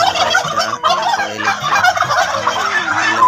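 Turkey cocks in a farm shed gobble loudly and close by, their rattling calls overlapping in a continuous chorus through the whole stretch, with no talking.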